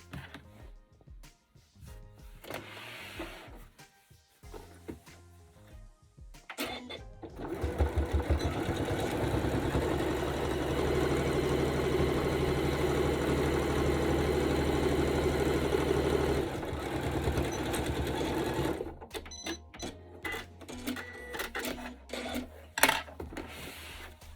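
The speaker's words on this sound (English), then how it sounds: "press it and then stitch again along that edge so it creates a little tunnel for it to go through" A sewing machine stitches along the edge of a fabric hanging flag, running in a loud, steady whirring burst in the middle, with handling noises before and after.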